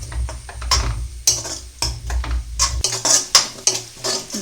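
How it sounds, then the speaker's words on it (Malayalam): A spoon stirs a potato and salt mixture in a cooking pan with repeated scraping and clinking strokes over a faint sizzle, close and uneven in rhythm. "എന്നിട്ട് നല്ലതായിട്ട് ഇളക്കി കൊടുക്കുക."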